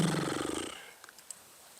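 A human voice imitates a cat purring with a low, rumbling, buzzy vibration lasting under a second, then it trails off into faint room noise with a small click.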